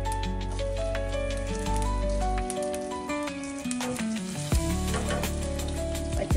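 Green chillies crackle and sizzle in hot oil with cumin seeds, a dense steady frying hiss with sharp pops scattered throughout, heard close up over a low background drone.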